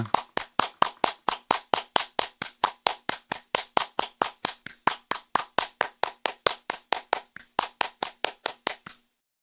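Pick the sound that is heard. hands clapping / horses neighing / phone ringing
hands clapping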